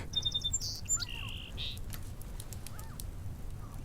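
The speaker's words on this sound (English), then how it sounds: "The song sparrow sings a silly song." Song sparrow singing: a few faint, thin chirps and short trilled notes near the start, then sparse softer calls over low background rumble.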